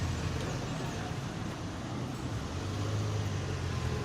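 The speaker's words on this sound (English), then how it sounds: "this is the next car that sits idling the whole time" A car engine idles in street traffic in Colombia, a steady low rumble that holds close and constant throughout with general roadway noise around it.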